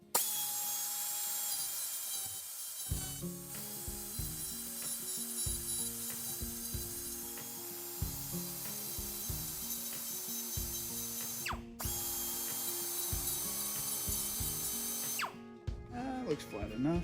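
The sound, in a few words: drilling pilot holes into seized nut on Subaru ball joint knuckle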